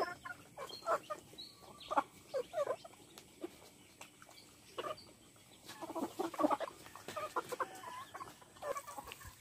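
Chickens and turkeys cluck and gobble steadily at afternoon feeding time, many birds calling at once in busy overlapping bursts, fairly close, with no talking.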